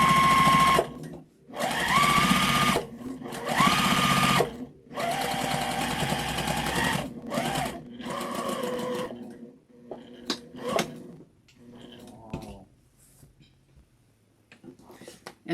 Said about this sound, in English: I'm just going to quilt this, and I'm going to start at one corner and go all the way to the other corner.